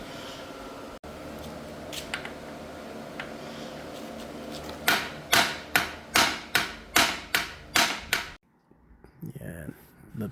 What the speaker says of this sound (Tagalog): Ngayon pwede na natin ito pukpukin.